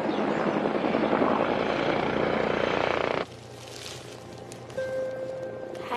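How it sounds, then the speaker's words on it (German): A helicopter flies overhead with a loud, steady broadband rotor roar for about three seconds, then it cuts away to a much quieter background with a faint sustained tone. "Das ist kein Gewitter, das ist nur ein Hubschrauber."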